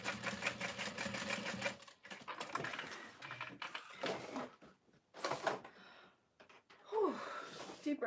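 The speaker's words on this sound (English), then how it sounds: "what's nice about top stitching on a domestic machine" A domestic sewing machine topstitches a Snow Drop satchel in several short, quiet bursts of stitching broken by pauses and faint handling noises.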